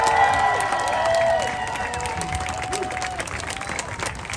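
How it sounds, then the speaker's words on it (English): Applause and cheering rise from an outdoor community crowd in Historic Filipinotown, steady clapping under tonal voices and whoops that stays loud throughout. "Please give a big round of applause"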